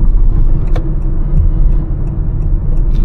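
A Honda Elevate SUV, top variant with CVT transmission, being driven on the road, heard as a steady low cabin drone with road rumble and faint ticking throughout.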